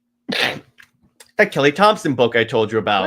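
A single sharp sneeze bursts out near the start, followed after a short pause by a person talking close up.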